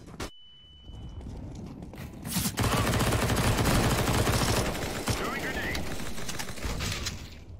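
P90 submachine gun fire in a video game, a long continuous stream of rapid shots with clattering mechanical texture, steady and fairly loud for several seconds after a few sharp opening bangs.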